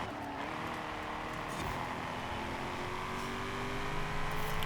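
A Lotus Carlton sedan engine held at a steady drone while braking hard into a corner in a racing video game, with a faint whine of other cars nearby and no talk.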